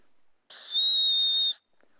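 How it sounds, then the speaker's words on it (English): Small emergency whistle clipped to a paracord bracelet, blown once in a single clear shrill blast of about one second, close and fairly loud, with near silence before and after. "that little bit of a whistle is really important"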